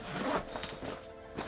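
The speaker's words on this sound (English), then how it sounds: "Unzip the old tackle bag." An old fishing tackle bag being unzipped, a single close zipper pull lasting about a second and a half, no talking.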